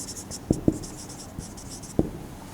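Marker or chalk writing a username on a board in a classroom: three short distinct taps and strokes with a quieter scrape between, close and otherwise quiet, with no talk.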